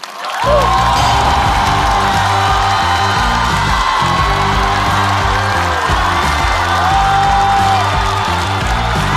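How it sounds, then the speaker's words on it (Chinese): A loud studio audience at a stand-up comedy show bursts into sustained applause and cheering to welcome comedians onto the stage, with whoops over steady clapping and music playing underneath. "让我们掌声有请"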